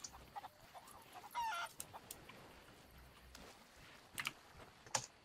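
Golden chicken in the pirate video game Sea of Thieves, clucking in a few short, faint bursts over a low game backdrop, with sharp clicks scattered throughout.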